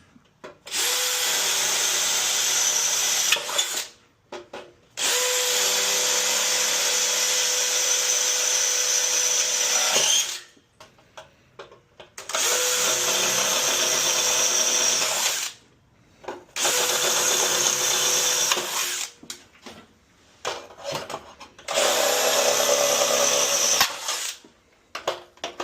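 A power drill drives screws into the mounting for a Micom SW800 automatic door opener in five long, loud whirring bursts, each lasting several seconds and separated by brief pauses.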